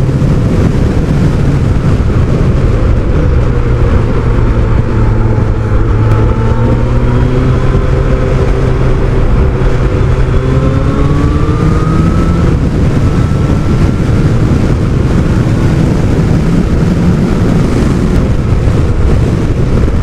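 A Kawasaki ZX12R motorcycle engine drones continuously while riding, loud and close under heavy wind rush, its pitch rising and falling as the throttle is rolled off and opened again.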